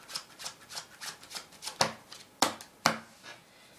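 Soft riffling and slapping of a deck of cards being shuffled during a card trick, a run of quick quiet strokes building to three sharper snaps near the end, close and alone with no talk.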